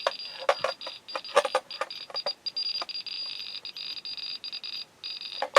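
Irregular high-pitched clicks and beeps from a Geiger counter measuring uranium glass and Fiestaware, some bursts clustered close together, others spaced apart, over a faint steady hiss.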